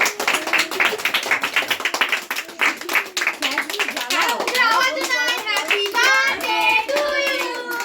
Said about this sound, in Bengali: হাততালি হাততালি দে